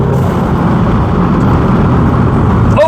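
A Seat Leon Supercopa TSI engine pulls hard under acceleration with a loud, steady, close-up drone heard from inside the car and no talking.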